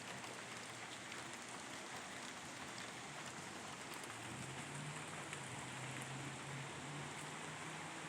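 Steady rain falling outdoors, a dense, even hiss throughout, with a faint low tone rising partway through and no one speaking.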